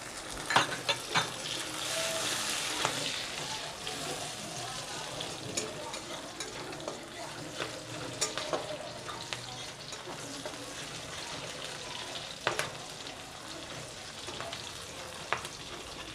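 Chopped onion and green chillies fry in oil with cumin and bay leaf for a Bengali prawn and taro curry; a continuous sizzle runs throughout, broken by repeated clinks and scrapes of a spatula against the pan, with no voices.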